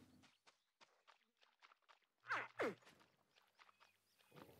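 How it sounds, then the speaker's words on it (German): Animal footsteps approaching in theHunter: Call of the Wild on the Mississippi map, a series of soft, faint steps in an irregular rhythm, with two louder thumps near the middle. "Schritte, Schritte, close. Da vorne."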